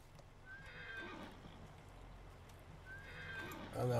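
Horse in the farming game Farming Simulator 19 whinnies twice amid steady in-game ambience, with a brief clatter near the end; someone talks over part of it.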